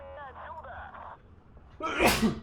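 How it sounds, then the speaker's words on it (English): A loud, sharp sneeze bursts out near the end, following a stretch of quieter voiced sounds. "Had to sneeze anyway."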